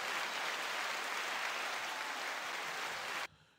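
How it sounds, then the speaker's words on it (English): Podcast hosts give a short round of applause for the Lakers, a steady patter of hand claps lasting about three seconds before it stops abruptly, with no talking over it. "Just give a little clap for them."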